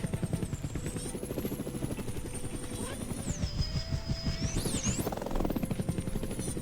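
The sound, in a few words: helicopter in a video game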